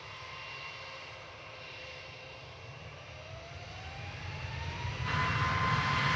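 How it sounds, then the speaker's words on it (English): A Jetstar jet airliner on the runway at Gold Coast Airport, its engine roar building steadily from a distant rumble to a louder, broader whine with a rising tone as it begins to move. "Just waiting for the Jetstar to get off the runway there."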